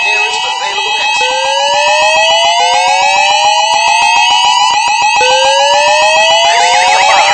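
A mall fire alarm sounds loudly and continuously, rising tonal sweeps and a steady pulsing buzz repeating over several seconds with no voice audible in this stretch.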